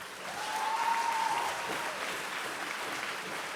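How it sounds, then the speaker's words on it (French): Steady applause from an audience at a French oratory competition final, a dense patter of many hands clapping that swells quickly and holds for several seconds. "On peut applaudir une dernière fois."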